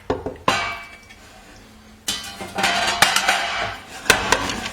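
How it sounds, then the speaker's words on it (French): A lid lifted off a pot of stuffed Sète-style mussels from the Thau lagoon: a few sharp metallic clanks and scrapes close by, then a rush of bubbling, hissing cooking noise from the open pot. "Alors on va enlever le couvercle."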